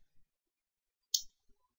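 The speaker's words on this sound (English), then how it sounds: "I'm just going to hit enter here." A single crisp click from the Enter key on a computer keyboard, short and close in an otherwise quiet room, with a couple of faint taps around it.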